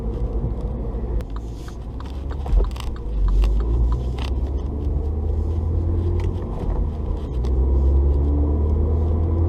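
MINI Cooper S Works 210 three-door hatch driving in third gear at about 40 mph, a steady close engine and road rumble with a low drone throughout, occasional mechanical creaks and clicks over it, no voices.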